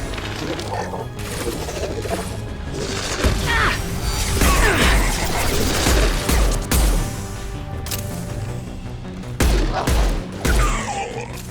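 Pistol fire in Mass Effect 2 rings out in rapid, repeated heavy shots mixed with impacts and crashing debris, loud and close, continuing in bursts with brief lulls across a noisy battle.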